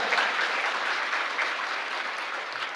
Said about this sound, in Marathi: म्हणून त्यांच्यासाठी एकदा जोरदार टाळ्या होत्या